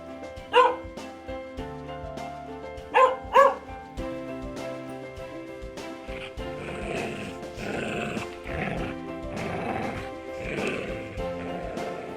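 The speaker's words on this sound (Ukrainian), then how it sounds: "Собака, дог," Dog barking in a few sharp, close barks, single then a quick pair, over a light musical backing, followed by a longer stretch of music.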